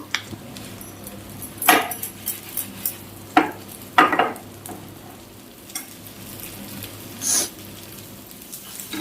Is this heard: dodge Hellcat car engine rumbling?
no